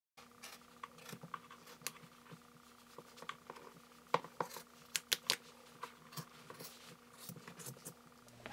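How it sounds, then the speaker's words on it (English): Scissors snip through yarn in quick, crisp clicks, many small cuts at an irregular pace, close and quiet in an otherwise silent room. "we grab our scissors and then we trim it to make it look nice and even."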